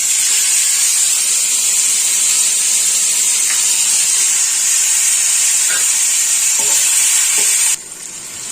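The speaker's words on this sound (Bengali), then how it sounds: "এবার এর মধ্যে দিয়ে দেবো এই টমেটো কুচিগুলো।" Chopped tomatoes fry in hot oil with a spiced tempering, giving a loud, steady close-up sizzle with a few faint stirring knocks; the hiss drops abruptly near the end.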